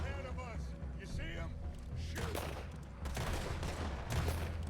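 Gunfire aimed at an alligator in the video game Red Dead Redemption 2: a rapid cluster of sharp shots in quick succession over a steady low rumble, with people talking at the start.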